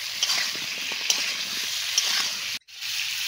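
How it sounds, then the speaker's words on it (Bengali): Pieces of pointed gourd fry in oil with salt and turmeric, giving a soft steady sizzle with light stirring clicks and scrapes, briefly cut off before resuming. "এবার পটলগুলো ভালো করে ভেজে নেব।"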